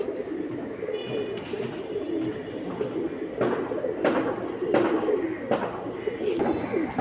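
Pigeons coo steadily throughout at a busy pigeon market, a dense layer of nearby birds with occasional sharper knocks and clatters rising over the crowd murmur.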